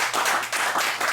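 A mastermind group claps for Alex, giving a short, steady burst of close group clapping with no voices.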